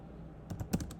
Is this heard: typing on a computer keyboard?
yes